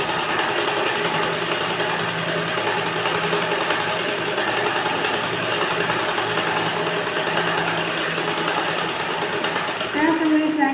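A sewing machine runs steadily and continuously while stitching a round katori blouse, its busy mechanical whir filling the whole stretch at moderate loudness.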